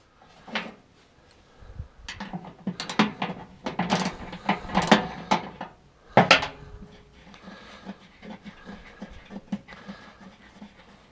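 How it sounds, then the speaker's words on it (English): Mounting bolts being removed from a furnace fan motor assembly: uneven bursts of close metallic ratcheting, clanks and rattles separated by quieter pauses, with one sharp knock near the end. "Now I'm going to disconnect all these, well, these 3 mounting bolts that have the motor assemblage hooked to the fan."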